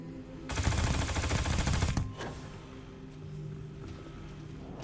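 Rapid automatic gunfire rings out in Starfield as a player shoots the character Roosevelt, a dense, loud burst lasting about a second and a half, then one sharp shot, followed by a quieter echoing tail and ambient hum.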